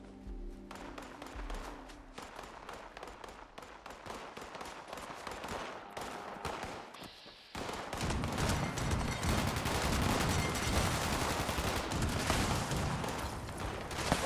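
Gunfire from a weapon in Fallout 76: rapid, evenly spaced shots crackle for about seven seconds, break off briefly, then resume as a louder, denser burst of automatic fire continuing to the end.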